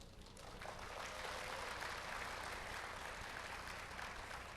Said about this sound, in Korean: 근데 박수 소리가 좀 작은 것 같아요